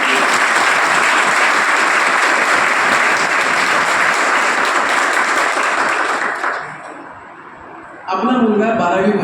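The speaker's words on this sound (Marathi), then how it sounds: "त्या सर्व शिक्षिकांसाठी एकदा जोरदार टाळ्या" An audience at a parents' meeting applauds the teachers with loud, sustained clapping that fades out, followed by a voice speaking.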